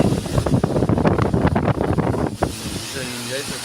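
Storm wind of a Kalbaishakhi thunderstorm roars in strong, gusty blasts buffeting the microphone for a few seconds, then eases slightly, with a faint voice audible near the end.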